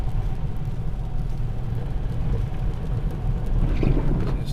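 A Toyota Corolla E210 hatchback on TEIN springs and Nitto tires pulls uphill at around 35 to 40 mph under throttle. There is a steady low engine and road rumble, with tire and wind noise rising slightly toward the end.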